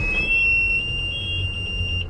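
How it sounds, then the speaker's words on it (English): A boat's low-oil alarm and depth alarm on an inboard-outboard motor sound together as a steady, loud, high electronic beep tone held throughout, over low engine-room hum. "That's the low oil alarm and my depth."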